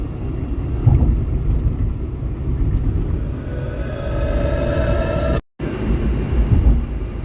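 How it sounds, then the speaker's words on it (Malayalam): A Dubai Metro train at Karama metro station gives a loud, steady rumble, and a rising whine swells toward the end as the train moves. No talking. "അപ്പോൾ ഗായ്സ്, നമ്മൾ കരാമ മെട്രോ സ്റ്റേഷനിൽ എത്തിയിട്ടുണ്ട്."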